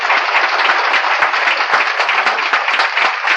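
Loud, steady applause from a crowd, dense clapping that carries on throughout without a break.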